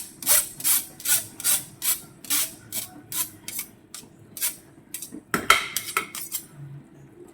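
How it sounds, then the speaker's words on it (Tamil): Cooked rice is scooped into a pot of aloo biryani with a metal spoon, making about a dozen close, rhythmic scraping clinks against the pot with no talking. "இப்போது இந்த சாதத்தை வந்து இது கூட நான் சேர்த்துக்கிறேன்."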